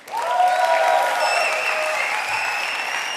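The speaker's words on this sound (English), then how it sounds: "Let's hear it for all the speakers that you saw so far today," Applause from a conference audience at the Beyond Tellerrand event in Düsseldorf, a dense, steady wash of many hands clapping that swells quickly and holds loud for the whole stretch, with a few whoops and faint crowd noise mixed in.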